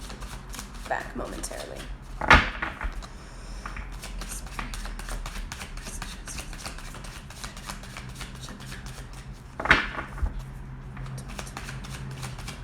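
Tarot cards shuffle in soft, rapid riffles and slides, with a couple of sharper snaps from the deck, running fairly quietly under a voice.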